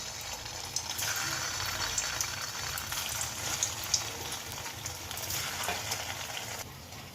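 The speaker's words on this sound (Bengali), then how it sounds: "আর একবার ভেজে নেব যে কটা আছে আর একবার ভেজে নেব" Chhana (paneer) koftas frying in hot oil for a second time, a steady close crackling sizzle with bubbling that runs throughout, alone with no talk.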